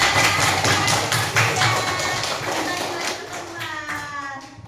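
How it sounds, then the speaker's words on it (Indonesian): A class of children in an Indonesian school lesson clapping together, heard as a loud, dense run of rhythmic hand claps that slowly thins out, with young voices mixed in. "Oke, tepuk tangan semuanya."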